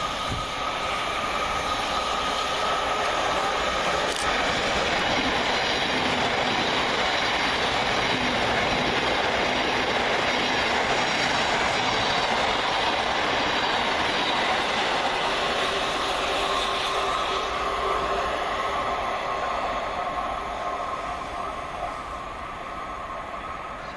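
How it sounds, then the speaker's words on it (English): A Class 700 electric passenger train runs through a suburban railway station on a Cambridge to Brighton service, a loud steady rumble with rhythmic wheel clatter and faint squeal, sustained throughout and close by. "Next to pass through the station, working 9 Sierra 25 from Cambridge to Brighton is"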